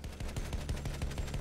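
Rapid gunfire from Battlefield 1, a World War I shooter, with steady bursts of shots in a fast, even rhythm across the clip, loud and close, with no voices.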